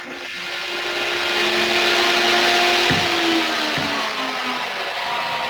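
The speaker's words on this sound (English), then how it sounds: "So the wind machine is blowing the wind into the direction of the turbine." A wind machine, a fan in a leXsolar teaching kit, blows a steady broadband whoosh toward a small model wind turbine, with a faint hum and a couple of brief knocks partway through.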